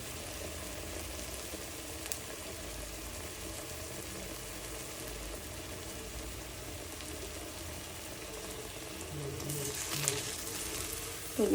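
Food fries in a pan until reddish, giving a steady close sizzle that swells slightly near the end, with no voices.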